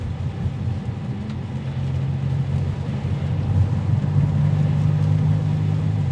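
A Maserati MC20 engine rumbles steadily as the car accelerates on a wet road in the rain, a low continuous drone that swells slightly and holds, heard close from inside the cabin with no talk.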